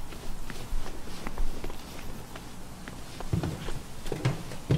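Film sound-effect footsteps, a steady run of soft close steps on a hard floor with light patter and scuffs, alone without music or other action.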